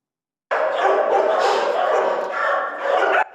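Abandoned homeless puppies in Kyiv yelp and whimper together in a loud, continuous, close chorus of high, overlapping cries lasting a few seconds.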